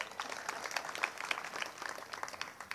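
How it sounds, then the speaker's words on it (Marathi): An audience at a devotional kirtan gathering breaks into brief applause, a soft and somewhat distant patter of many hands lasting a few seconds. "टाळी वाजवा सगळ्यांनी एकदा"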